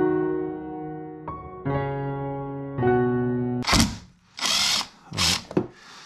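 After a stretch of droning tones, a 10 mm socket tool removes an engine plate in four short, loud, buzzing bursts, close by and separated by brief pauses.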